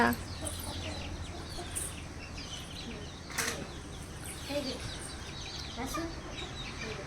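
Scattered clucks and soft chirps from chicks over a steady farmyard background, with brief flutters and a voice now and then.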